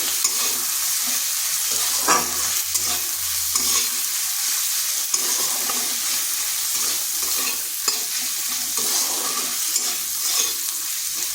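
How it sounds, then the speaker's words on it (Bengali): Onions fry in a pan with a steady, close sizzle, broken by occasional scrapes and clicks of a spatula stirring, and no talking over it. "পেঁয়াজটাকে একটু ভেজে নিচ্ছি।"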